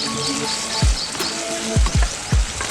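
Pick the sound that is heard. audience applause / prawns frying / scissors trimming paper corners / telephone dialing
prawns frying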